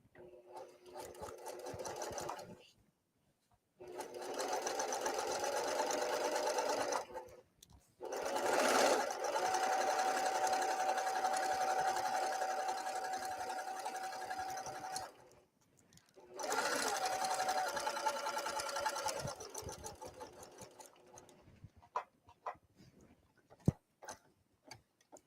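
A sewing machine stitches a half-inch seam while sewing garment underlining, running in steady bursts with brief pauses between them, close and clear with no talking over it.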